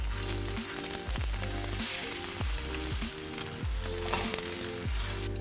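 Eggs frying in a pan for a breakfast sandwich, a continuous loud sizzle with a few soft scraping flips of a spatula, no voices.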